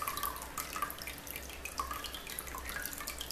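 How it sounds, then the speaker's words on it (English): Water from a can of baby carrots drains into a sink, a steady light trickle with dripping, running continuously and close by with no talk. "Be sure to drain all that water out."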